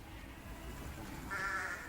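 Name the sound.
flock of sheep bleating in Munich's Englischer Garten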